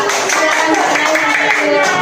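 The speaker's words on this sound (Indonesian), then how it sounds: "tepuk tangan untuk mereka berdua" Classroom audience clapping for two students during a school coaching session, a brief burst of hand claps with voices and a tonal hum running beneath throughout.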